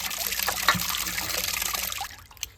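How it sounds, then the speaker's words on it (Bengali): River rohu fish being washed by hand in a basin of water, a steady close splashing and trickling with small knocks, ending with a drip, no talking. "এবার তুলে নেবো একদম জল সাদা হয়ে গেছে আর দেবো না মাছ ধোয়া কমপ্লিট"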